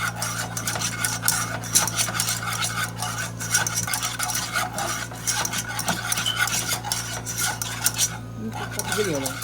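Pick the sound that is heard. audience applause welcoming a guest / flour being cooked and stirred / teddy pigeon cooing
flour being cooked and stirred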